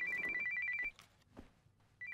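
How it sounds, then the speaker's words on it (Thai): A mobile phone rings loudly and close by in a scene from a Thai-dubbed TVB action drama, sounding a steady electronic ringtone for about a second, then going quiet with faint shuffling before the ring starts again. "ฝอยฝอย รับสายก่อนนะ"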